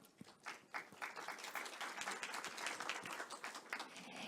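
Audience applause welcoming the first session chair to the stage at the AI World 2024 conference panel event on deepfakes, a steady, moderately quiet patter of clapping from a seated hall that continues throughout.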